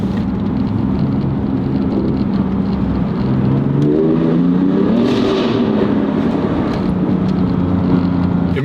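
A BMW M3 Competition pulling away, its engine note rising and shifting in a loud, continuous drone heard from inside with road roar, revs climbing and settling over several seconds.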